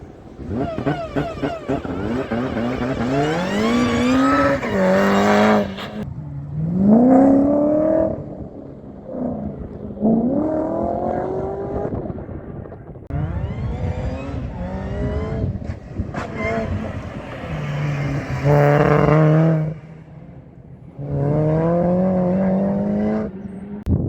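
A Mazdaspeed 3 on an autocross course gives a loud, rising engine whine through repeated bursts of acceleration, each surge climbing in pitch before dropping off between runs, with brief lulls in between.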